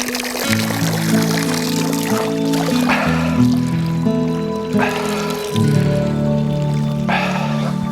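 Drinking water pours and trickles steadily into a container at a camp near Wrangell, Alaska, a continuous splashing stream with a ringing, shifting tone as it fills.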